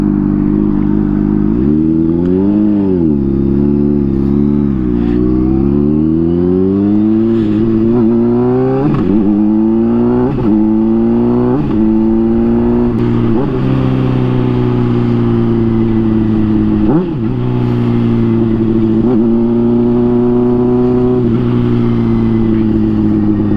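A motorcycle with a changed baffle exhaust revs repeatedly and loudly up close, its engine pitch rising and falling in a series of throttle blips over a steady idle, with no talk.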